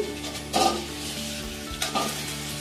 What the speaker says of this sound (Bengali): আমি আরেকবার একটু নেড়ে দেবো